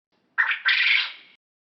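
One harsh two-part quail call, brief then drawn out, sounds close and clear against otherwise silent surroundings.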